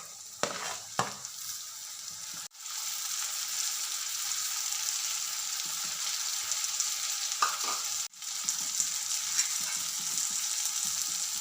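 Tomato, green chili and curry leaves sizzle steadily with softened onions in a pan for a restaurant-style fish curry, a close, continuous hiss broken by two sharp clacks of a utensil or lid.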